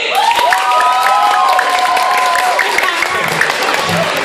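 Guests at a first-birthday party clap and cheer for Daddy Vic, a dense, loud burst of applause and crowd noise with a voice calling out over it throughout.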